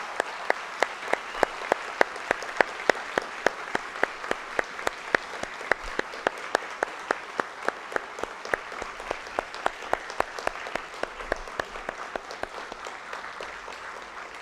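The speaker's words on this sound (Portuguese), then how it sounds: "Eu peço a todos que saúdem essas formandas com uma salva de palmas." An audience applauds graduating social work students at a university degree ceremony, with steady, rhythmic clapping that stays even and sustained for the whole stretch, sharp claps standing out above a dense wash of hands.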